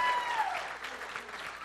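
A church congregation breaks into applause, a dense wash of clapping that stays steady and fairly loud across the whole short stretch, with no voices standing out above it.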